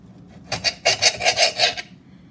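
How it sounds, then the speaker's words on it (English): Rhythmic rasping scrapes of a knife on a cutting board while preparing marinated meat for stuffed bell peppers: about six close, fairly loud strokes in a quick run, then quiet. "Sorry about the noise if you don't like the scraping."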